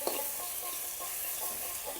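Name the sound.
mankochu taro stem frying in a pan with spices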